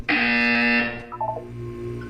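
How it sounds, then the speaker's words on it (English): A loud, harsh electronic buzzer from the video game Portal 2 blares for nearly a second, then stops, followed by a few short beeping tones. "You will hear a buzzer."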